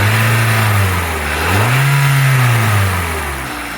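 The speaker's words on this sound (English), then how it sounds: "So we'll now rev the engine with the camshaft sensors unplugged." A car engine with its camshaft sensors unplugged revs up from idle, holds a higher pitch for a moment, then drops back. It is loud and close, with no voices.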